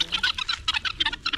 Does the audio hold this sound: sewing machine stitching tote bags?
no